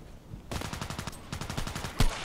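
Rapid automatic gunfire in the ADXsniper video game, dense bursts of quick repeated shots starting abruptly, a brief pause, then another burst ending with a louder single crack.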